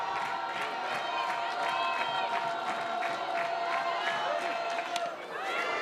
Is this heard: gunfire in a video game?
no